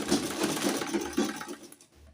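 A sewing machine stitches bias tape along a dress hem, running in quick rhythmic bursts of close mechanical chatter for about two seconds before slowing to a stop.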